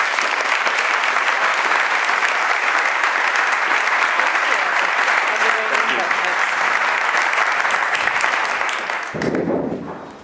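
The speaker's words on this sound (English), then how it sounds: "With that, big applause and warm welcome to Katherine Milligan." Sustained, loud applause from a conference audience welcoming a keynote speaker on systems entrepreneurship, steady and dense for about nine seconds before tapering off abruptly at the end.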